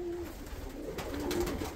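Soft, low cooing of a loft of pigeons with many young, quiet and a little distant, repeating in gentle murmurs over faint background noise.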